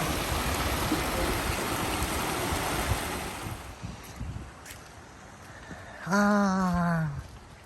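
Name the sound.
flowing water stream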